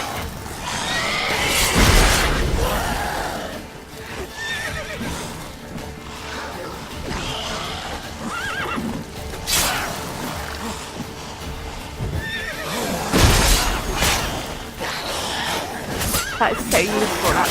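Horse whinnies from the video game Witcher 3: Wild Hunt sound over busy game noise and someone talking, with a couple of louder crashing bursts mixed in.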